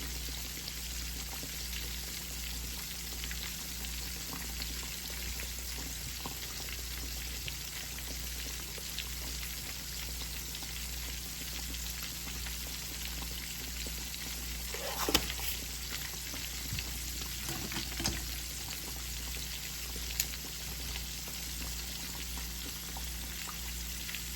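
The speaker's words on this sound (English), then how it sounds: "Oil over here popping." Frog legs, fish and shrimp frying in hot oil give a steady, close sizzle with faint crackles and a few sharper pops partway through, no talking.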